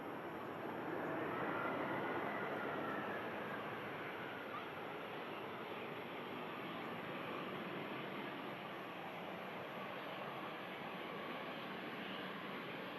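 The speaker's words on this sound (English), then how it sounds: "EasyJet 320 coming in from Paris. Just a short hop of around an hour for this flight. Just making the hump perfectly. Clamshell reversers in action." EasyJet A320 inbound from Paris landing with clamshell thrust reversers deployed, a loud, steady broadband roar sustained throughout at moderate distance, with no clear talk over it.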